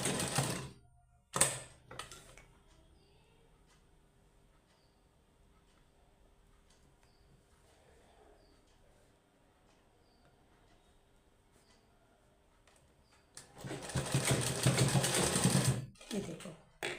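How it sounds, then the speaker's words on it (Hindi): Sewing machine stitching socks made from an old sweater, a loud whirring burst for about two seconds near the end, with brief clicks at the start and quiet handling between. "अब यहाँ से सिलाई लगानी"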